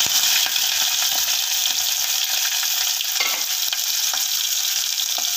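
A green chili is added to hot oil in a pan with fennel seeds and onions for a goat-leg curry. A steady, close sizzle carries on throughout, with occasional light stirring clicks and no talking.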